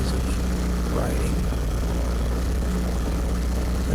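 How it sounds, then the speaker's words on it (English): ATV exhaust note on a trail ride, a steady low engine drone running continuously and fairly near, with a faint voice talking over it. "hearing that exhaust note is really one of the joys of riding"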